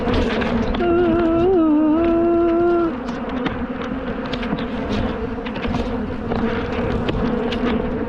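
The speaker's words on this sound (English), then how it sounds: "Killer bees." A loud, sustained buzz of angry bees around a hive fills the clip, with one bee droning close by for a few seconds over a swarm humming in the background.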